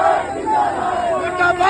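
A crowd of Aam Aadmi Party workers protesting, chanting and shouting together in a loud, sustained roar of many voices with rising and falling cries.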